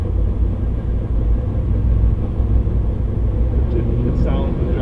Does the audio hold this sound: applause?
no